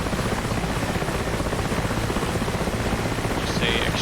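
Military helicopter in a tactical video game idling on the ground during a troop extraction, a steady loud rotor and engine roar filling the whole stretch with a brief higher tone near the end.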